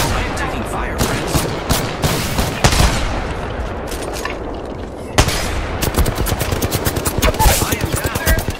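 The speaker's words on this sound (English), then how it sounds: "I am taking fire," Gunfire in the Apex Legends video game: dense bursts of rapid shots and impacts repeat throughout, loud and close, with sharp louder cracks near three and five seconds and faint talk underneath.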